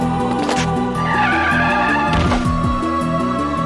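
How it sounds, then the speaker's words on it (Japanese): A sudden car braking screech from the Famicom game Famicom Detective Club, a brief synthesized skid-like sweep about midway, set under steady chiptune music that plays throughout. "急ブレーキの音で我に返った"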